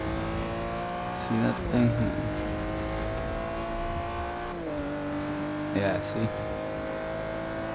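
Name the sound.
Shelby GT350 engine revving in video game Forza 6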